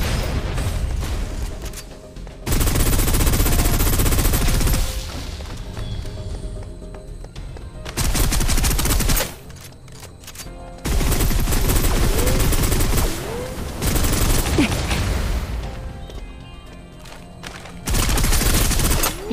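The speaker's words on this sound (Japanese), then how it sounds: "制圧射撃を始める。" Suppressive fire in the video game Snowbreak: Containment Zone comes as loud bursts of sustained automatic gunfire, several long sustained volleys separated by brief quieter gaps.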